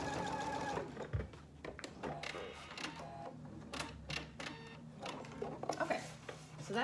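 Sewing machine running quickly back and forth to backstitch the bottom of a market bag pocket, a rapid mechanical chatter with brief pauses and clicks, fairly quiet and close.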